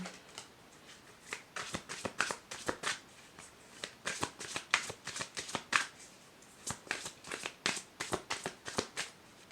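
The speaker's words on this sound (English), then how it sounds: "Now let's have some bunny cards and see what they say." Bunny-themed oracle cards shuffled up close, a rapid irregular series of crisp riffling flicks and paper slaps in quick bursts, loud and clear with no speech.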